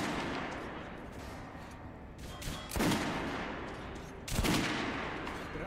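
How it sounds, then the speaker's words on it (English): Gunfire at a shooting range in Battlefield V, a steady rumbling roar broken by two sharp, loud shot bursts spaced a couple of seconds apart, with no talking. "head over to my range and try out those guns"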